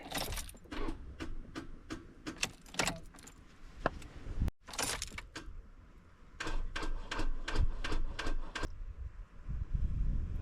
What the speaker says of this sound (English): Adam got the keys out, put them in the ignition